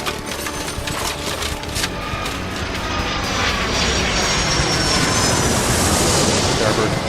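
An airplane takes off in the airport simulation game Airport Madness 3, its engine roar swelling steadily louder and brighter beneath continuous radio-style voice chatter.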